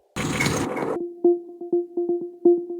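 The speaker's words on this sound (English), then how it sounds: "What you're hearing is a bulldozer sound," A processed bulldozer field recording turned into a short hissy noise burst, followed by a series of repeated tonal metallic clunks at an uneven rhythm, with a slight echo, made as drum sounds for organic house music.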